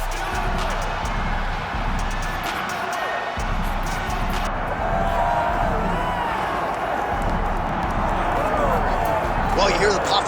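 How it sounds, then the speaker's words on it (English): Arena crowd roaring and cheering in the UFC 5 fighting game as Nate Diaz begins his walkout, a dense continuous swell heard under a commentator's voice. "Well, you hear the pop from the crowd"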